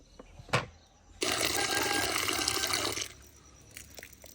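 Water pours or runs steadily for about two seconds while clothes are put to soak at home, loud and close, after a brief sharp splash; quieter household noise continues before and after.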